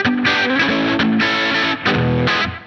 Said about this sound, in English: Now we'll need to change this to a spring reverb